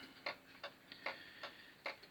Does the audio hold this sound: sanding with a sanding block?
no